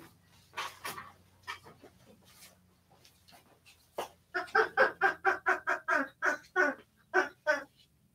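A small chicken clucks in a run of quick, loud, evenly spaced calls after a few scattered earlier ones, heard close in a quiet room during a dog grooming session.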